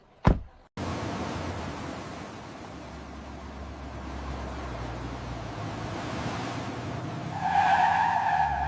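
A car pulls away after a brief door thump, its engine and tyre rumble rising steadily into a smooth continuous drive with road noise that swells toward the end, no talk.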